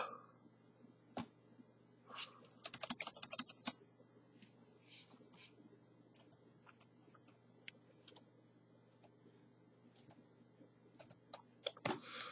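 Light clicky typing on a laptop keyboard, irregular keystrokes in bursts, fairly close and quiet.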